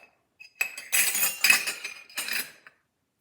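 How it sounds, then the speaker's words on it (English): Metal spoons clink and scrape against a mixing bowl and cup while scooping homemade pancake batter, a quick run of close, bright taps and scrapes lasting about two seconds before falling silent. "One to scoop the batter out of our mixing bowl and into the cup"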